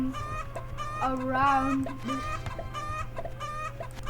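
Chickens cluck and squawk in a chicken simulator video game, with repeated bright calls over a steady low background hum and a brief spoken word.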